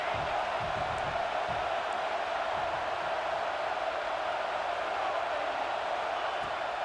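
Stadium crowd noise from EA Sports College Football 26, a steady broad roar that holds at an even level throughout, with no distinct cheers or chants rising out of it.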